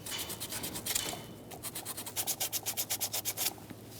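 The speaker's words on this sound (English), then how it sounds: "For this, I'm just going to use some fine sandpaper along this side and on the opposite side" Fine sandpaper rubs back and forth on a starter power wire contact of a 2009-2014 Nissan Maxima 3.5L V6, a close, quiet scratchy rasp that settles into a regular rhythm of about a dozen strokes.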